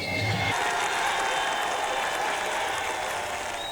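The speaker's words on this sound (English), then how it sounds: "What follows is a cacophony of singing, chanting, and flag waving on both sides of the fence." A large crowd at the daily India–Pakistan border parade cheers and applauds in a loud, continuous roar of clapping and shouting, steady throughout.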